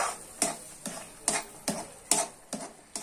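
A spoon stirs moong dal halwa in a pan just after milk is poured in, scraping in regular strokes about twice a second, each stroke a crisp close scrape over a faint sizzle.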